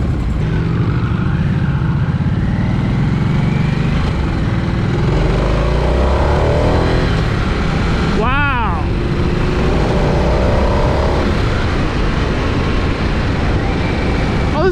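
A 2023 Harley-Davidson Nightster Special six-speed motorcycle engine drones steadily while riding, with wind and road rumble throughout and a rider talking over it.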